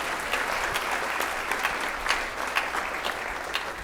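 Audience applause during a school district community presentation, a steady, moderately loud patter of many hands clapping throughout with no talking.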